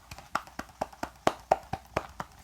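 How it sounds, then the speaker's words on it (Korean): A lone pair of hands claps in a steady, even rhythm, about ten crisp claps in quick succession, quiet and close with no voices. "박수가 나옵니다"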